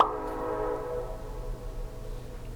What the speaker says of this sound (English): oh my gosh, freaking train